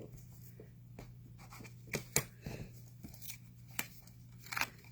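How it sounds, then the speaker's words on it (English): A bone folder rubs along rough paper card edges, giving soft scraping strokes and a few crisp rustles and crackles. The sounds are quiet and close in an otherwise still room. "I'm just going to smooth those out with my bone folder."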